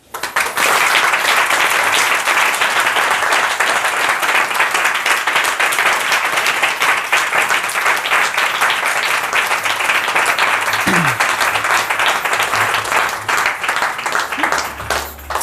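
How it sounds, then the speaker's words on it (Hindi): Sustained applause from a church congregation at a Hindi Bible teaching service, dense steady clapping filling the whole stretch at close range, with a few faint voices underneath. "ताली बजाएं।"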